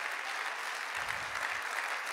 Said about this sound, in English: Would you just clap hands one more time while you're seated?